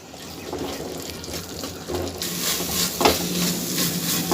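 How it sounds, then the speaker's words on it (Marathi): A spoon works through thick puran, cooked chana dal and jaggery, in a pot on the stove, giving soft scraping and wet, sticky stirring sounds that grow louder and more sizzling partway through, with no talking. "मी याला अशाच पद्धतीने हलवत राहणार आहे"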